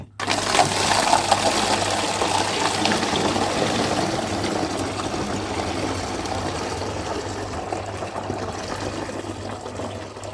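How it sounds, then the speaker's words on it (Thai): Water gushes loudly into a fermentation tank for homemade fresh sugarcane wine, a continuous splashing pour up close that eases slightly toward the end, with no talking. "เราเทน้ำลงถังหมักได้เลยค่ะ"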